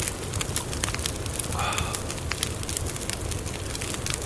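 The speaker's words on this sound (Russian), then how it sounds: "Пока костер горит" Campfire burning in the survival game The Long Dark, a steady broadband crackle and hiss with scattered sharp pops throughout, fairly close and continuous with no talking.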